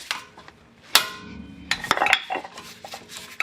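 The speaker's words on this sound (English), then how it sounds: "Then with the sledgehammer, now that's loose." A sledgehammer strikes a brake rotor on a 1999 Acura RL front brake, giving a few sharp metallic clanks at close range in a quiet garage, with smaller clinks and rattles after the blows.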